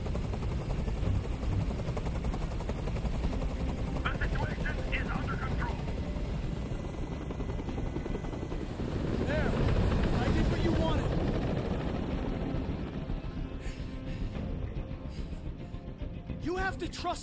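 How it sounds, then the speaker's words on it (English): A helicopter in the Detroit: Become Human video game drones with a steady, heavy rotor thrum throughout, loud and constant, while voices speak over it. "Tell that helicopter to get out of here."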